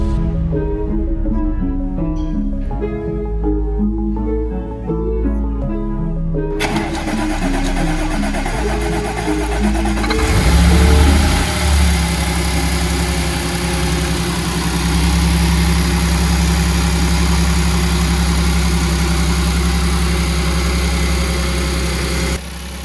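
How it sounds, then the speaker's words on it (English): An Audi S5 3.0 TFSI engine with coolant in its oil turns over and catches after an oil filter change, then settles into a steady, loud idle with a constant low rumble and vibration, preceded by faint background music. "we can start the engine afterwards"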